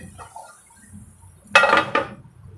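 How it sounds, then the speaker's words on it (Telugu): A cooking pan gets its lid set in place while guntta pakodi made with Bombay rava cook, producing two close, sharp metallic clanks about a half second apart against a quiet kitchen background. "అన్నీ కూడా ఇలా వేసేసుకొని మూత పెట్టేసుకుందాం."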